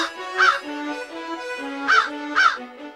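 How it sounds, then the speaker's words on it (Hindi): Crow cawing in three loud, harsh calls, one near the start and two close together toward the end, with a steady low tonal drone underneath throughout. "ये कौवा कैसे काव काव कर रहा है।"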